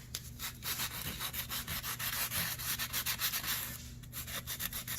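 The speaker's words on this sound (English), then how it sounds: "I am sanding very gently in very small amounts at a time." Plaster sanded gently by hand in small strokes, a quiet rhythmic rasping scrub repeating steadily and close, with no talking.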